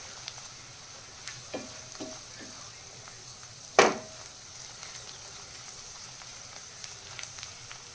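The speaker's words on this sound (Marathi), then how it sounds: "आलं लसणाची पेस्ट टाकून घेत आहोत ती पण आपल्याला ह्याच्यामध्ये छान फ्राय करून घ्यायची आहे" Ginger garlic paste fries in a kadhai for spicy paneer masala with a faint, steady sizzle, a few soft ticks and one sharp metallic clink midway.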